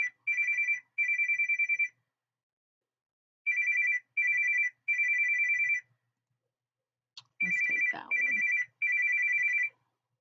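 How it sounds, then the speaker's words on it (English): A phone's ringtone plays for an incoming call in repeated electronic bursts with short gaps, loud and clear, and a brief rustling noise near the end. "Pardon that phone call."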